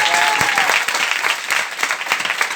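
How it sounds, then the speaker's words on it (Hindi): Loud, enthusiastic audience applause at a motivational seminar, brisk and continuous, with individual hand claps standing out. "एक बार जोरदार ताली बजाइए।"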